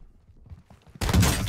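A shotgun buckshot blast in the game Warzone hits suddenly and loudly after quiet footsteps and shuffling, with a dense roar that stays to the end.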